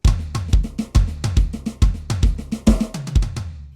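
Drum kit fill moving around the toms, a rapid run of loud, close tom strokes with deep bodies, ending on a bright cymbal crash and bass drum hit, played alone with no talk.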